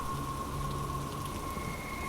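An animated rainstorm sound effect gives a soft, steady hiss of rain with a low rumble underneath and a faint sustained tone, quiet and unbroken for about two seconds.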